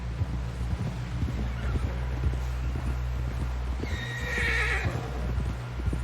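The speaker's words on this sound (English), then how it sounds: "Someone help John down off this horse." A horse whinnies loudly near the end, over soft clip-clop of hooves and a steady low background hum, with wind noise, in the video game Red Dead Redemption 2.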